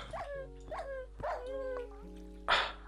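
A dog in the Minecraft video game gives several short, clear barks and yips, spaced out one after another, ending on a louder sharp bark.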